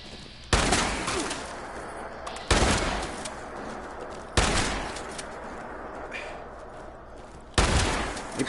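Heavy gunfire from Fallout 76 erupts in four loud, booming shots spaced a couple of seconds apart, each with a long rumbling tail over continuous game ambience.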